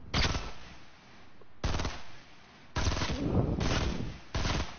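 Loud bursts of automatic gunfire from a first-person shooter game, several sustained volleys separated by brief pauses, with no talking.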